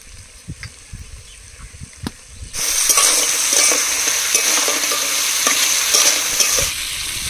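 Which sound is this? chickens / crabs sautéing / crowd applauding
crabs sautéing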